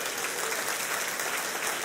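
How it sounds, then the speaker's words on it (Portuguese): Church congregation clapping together during a sermon, a steady, dense wash of applause from many hands, moderately distant and unbroken for a brief moment. "Você pode aplaudir Jesus?"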